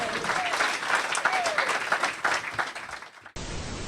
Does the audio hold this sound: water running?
no